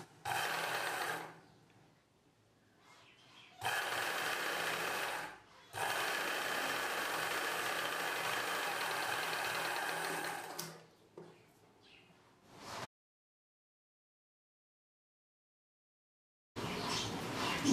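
A sewing machine stitches blouse fabric for a cross-cut blouse, running in several bursts of steady whirring separated by short pauses and a long silent gap, close up, then restarting at the end.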